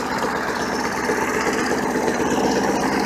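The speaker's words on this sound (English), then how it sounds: "It's the only lawnmower I've ever had that does this. The way it idles." A power-block lawnmower engine idles steadily while warming up, a continuous close rumble with a fast, even pulse and no voices.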